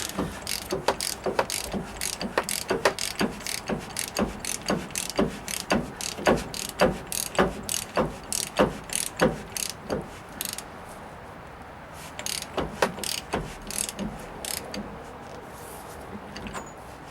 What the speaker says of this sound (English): I would tighten this up with a hand ratchet.